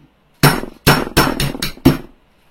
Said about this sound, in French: Avec le marteau.